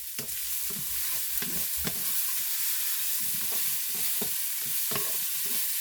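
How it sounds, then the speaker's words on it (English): Garlic frying fast in a pan, seasoned with salt and pepper, producing a loud, continuous close sizzle broken by regular scraping stirs of a utensil; no talking. "that's kind of cooking that garlic up a little too fast"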